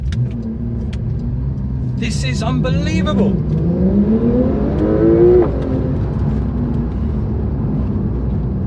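Porsche 911 992 Turbo S launching hard and accelerating, heard from inside the cabin as a rising engine and whirring drone through a gear change, while an excited occupant speaks over it.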